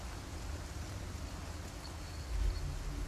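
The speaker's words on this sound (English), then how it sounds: "Yeah, it's raining." Steady rain in the video game Resident Evil 4 Remake, a soft, even broadband hiss with a low rumble underneath, continuous and fairly faint throughout with no voices over it.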